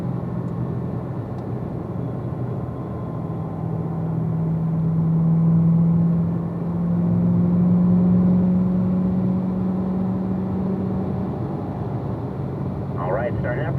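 A car engine hums steadily while driving in 4th gear before braking, a low continuous drone that swells slightly midway, with a brief voice near the end.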